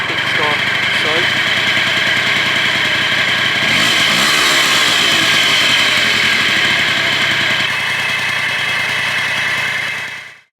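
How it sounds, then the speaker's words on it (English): A 50cc scooter engine idles steadily and smoothly at close range, a constant low hum with faint mechanical rattle throughout, then it cuts off at the end. "The engine is surprisingly smooth and quiet"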